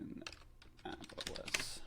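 Computer keyboard typing, a quick run of soft, close key clicks in an irregular rhythm, quiet and heard alone.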